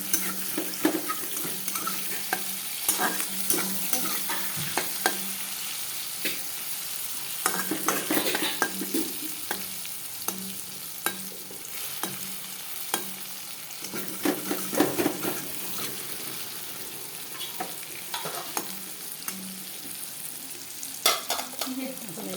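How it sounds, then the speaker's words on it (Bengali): Eggplant frying in a pan before spices go in, a steady close sizzle running throughout with repeated scrapes and stirring clatter at irregular intervals, no voices. "বেগুনটা ভাজা ভাজা হয়ে গেছে মোটামুটি।"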